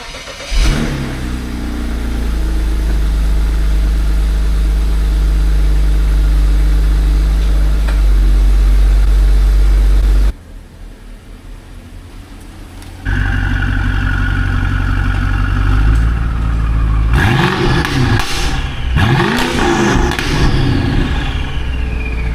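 BMW E60 engine runs loud and close as the car is pulled out, a steady drone broken by a brief quieter gap, then several revs swelling and falling near the end.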